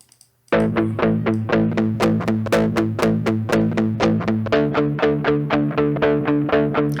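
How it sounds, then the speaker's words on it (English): Electric guitar through homemade distortion and fuzz effects with the tone fully open, bright and loud, picking a steady, rhythmic run of repeated notes that shifts to a new chord partway through, with no talk. "I've left the tone completely open on the distortion, so it's very bright"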